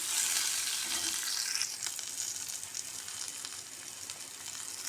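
Curd curry (mosaru saaru) ingredients frying in a pan, a steady close sizzle with light crackling that eases slightly after the first seconds, no talking.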